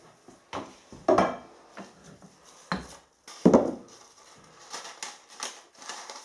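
Several sharp, crunchy cracks come in short bursts, hard grains being broken under pressure, with quiet gaps between the crushes.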